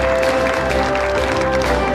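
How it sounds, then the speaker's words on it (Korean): Audience applause at a national high-tech industry briefing in Korea fills the hall right after a corporate investment presentation, a steady dense wash of clapping heard throughout, fairly loud with a faint background hum. "뜻깊은 발표를 해주신 박노정 사장님께 큰 박수 부탁드립니다."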